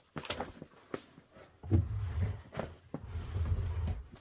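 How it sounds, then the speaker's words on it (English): A large ottoman creaks and thumps as it's shifted across the floor nearby, a series of low scraping groans and knocks. "That is the sound of my gigantic ottoman."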